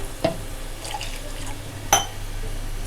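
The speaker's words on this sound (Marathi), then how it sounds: "आता ह्याच्यामध्ये आपल्याला हवं तेवढं पाणी घालायचं" Water goes into fish curry cooking in a pan, giving a couple of brief, splashy liquid bursts and soft dripping over a quiet kitchen background, with no talking.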